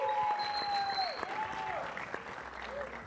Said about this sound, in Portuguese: Aplaudam a vida do Felipe